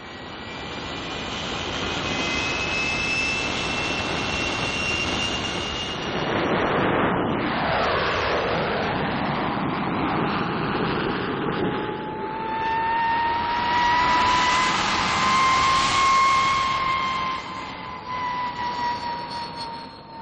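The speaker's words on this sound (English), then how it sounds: "the P-1067, the fastest fighter flying today" A Hawker P.1067 jet fighter flies past with a loud, sustained roar and a rising then falling whine as it nears and recedes, with no voices.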